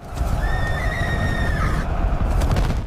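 A horse whinnies loudly for about two seconds, a rising then wavering cry over a dense rumbling background, with no voices.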